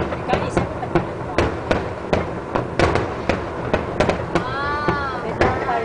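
Lunar New Year fireworks in Hong Kong, 2011, a rapid run of loud, sharp bangs and crackles repeating close together, with a whistling rocket near the end and people chatting underneath.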